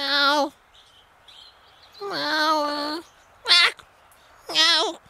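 Cartoon cat meowing, several separate drawn-out meows, loud and close, with quieter gaps between them and no talk.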